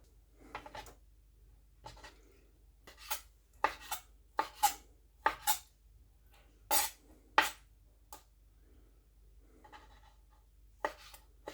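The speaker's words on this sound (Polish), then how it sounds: "Śledzie odsączamy i kroimy w kostkę, ewentualnie w paski." A knife cuts drained herring fillets into cubes on a board, a series of sharp separate chops in irregular clusters, close and fairly quiet, with pauses between bursts.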